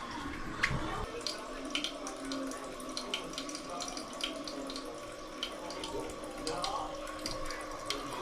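A newly installed toilet's tank refills after a flush, a steady quiet hiss and trickle of running water with small splashes throughout, heard close up.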